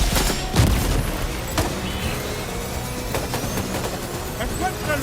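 Gunfire in the PlayStation 5 game Death Stranding 2: scattered sharp shots crack out over a rumbling battle backdrop, with one heavy blast near the start and spaced single reports after.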